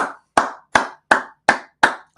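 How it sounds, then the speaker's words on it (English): Single pair of hands clapping slowly and evenly, about seven loud, close claps with silence between each. "Round of a freaking applause for Jeremiah Jackson"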